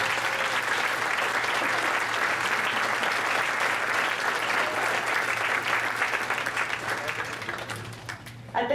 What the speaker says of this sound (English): and we'll give them a round of applause.